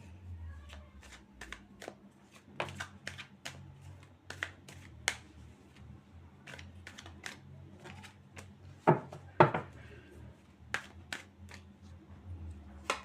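Tarot cards being shuffled by hand: a steady run of crisp papery riffles and snaps, close and fairly quiet, with two sharper, louder slaps near the end.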